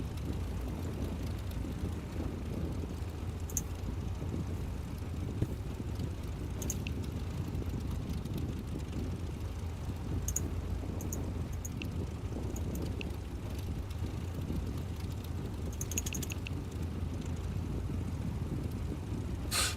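An RV-8 aircraft's piston engine drones steadily and evenly in a flight simulator game, a continuous mid-level hum with no voices.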